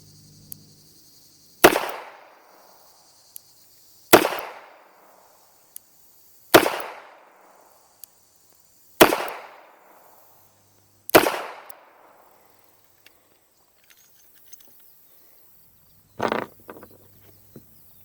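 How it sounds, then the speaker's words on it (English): An old Smith & Wesson Model 36 flat-latch revolver fires five double-action shots outdoors, each a loud, sharp crack with a decaying tail, spaced about two and a half seconds apart, followed by quieter handling noises. "let's give it a whirl right here off the block so I can demonstrate how well the gun shoots as opposed to how well I shoot it. 5 shots on double action."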